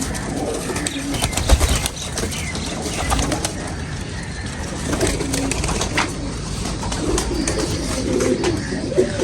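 Young pigeons cooing in a loft, soft repeated coos and rustling close by with occasional wing flutters, no talking.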